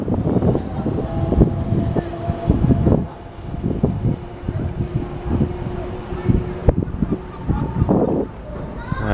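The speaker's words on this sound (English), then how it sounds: "And another DLR train arriving now on platform 4 for Lewisham." A DLR train pulls into an outdoor platform at Greenwich, low rumbling and clattering wheels with wind buffeting the microphone and a voice talking over it.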